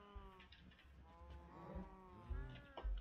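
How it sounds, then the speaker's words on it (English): Cows in the Minecraft video game give a few low moos and bleat-like calls over faint background game sounds, with louder bursts near the end. "Got a lot of cows there."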